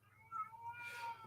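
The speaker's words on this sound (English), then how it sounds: "I'm also left with the kitty cat" A pet cat gives a single short, quiet meow indoors.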